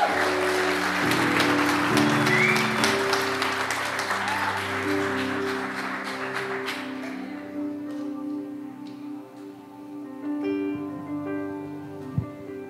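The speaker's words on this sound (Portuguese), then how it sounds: "Aplaude e glorifique o nome dele." A church congregation breaks into loud clapping and cheering that gradually thins out while an organ or keyboard plays sustained chords beneath it.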